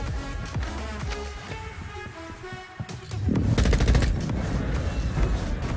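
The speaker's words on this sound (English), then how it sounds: "Gunshots everywhere." Gunfire in the video game Modern Warfare 2, with bursts of automatic weapon fire and scattered shots that grow louder and denser partway through, over busy game noise.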